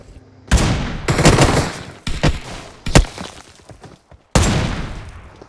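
AMR sniper rifle shots in the battle royale game BGMI, several loud, sharp reports spaced about a second apart, each ringing out with a brief echoing tail before the next.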